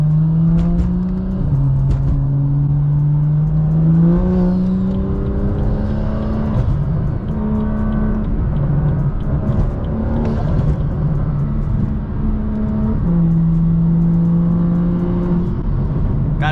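BMW F87 M2 with the N55 turbocharged straight-six revving through several rising and falling pulls, a loud, close engine drone with steady harmonic tones shifting in pitch, no voices.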